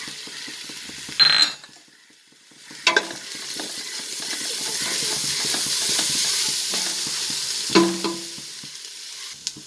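Garlic and green chili sautéing in a pan for tomato biryani: a steady sizzle of frying with occasional spoon scrapes and metallic clinks as the mixture is stirred.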